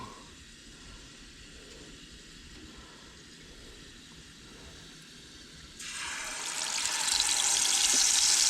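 Steady sizzling hiss of white bass and bluegill fillets frying in hot oil, close by, swelling louder and brighter partway through as more goes into the pan.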